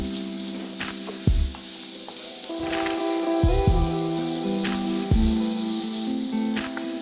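Cumin and onion sizzle and fry steadily in hot oil for a Bengali cauliflower, potato and fish curry, with intermittent stirring clatter and scrapes over the constant crackle.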